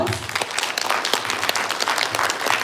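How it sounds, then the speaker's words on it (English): Conference audience in a hall gives a panel a round of applause: a sustained, lively wash of many hands clapping with a few sharper nearby claps standing out. "Give them a round of applause."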